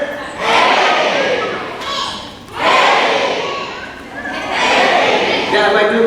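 An elementary school spring concert audience shouts together in loud unison several times, each group cry swelling and fading over about a second.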